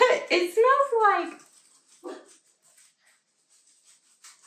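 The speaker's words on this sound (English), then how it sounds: "Another little dog outside." A small dog outdoors whimpers and barks in a short high-pitched burst, loud and close at first, then a few fainter yips trail off into near silence.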